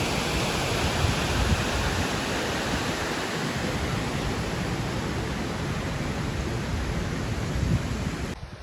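Badva waterfall, a year-round fall near Netrang, Bharuch, roars as a dense, steady rush of water that stays loud and unbroken throughout before cutting off at the very end.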